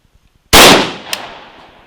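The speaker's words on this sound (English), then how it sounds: "So I'm going to try shooting this thing again and see if we can't recover a bullet" A single sharp, loud gunshot from a 5.45 rifle firing 59gr Red Army Standard ammunition into a gel block, with a decaying echo tail and faint clicks before it.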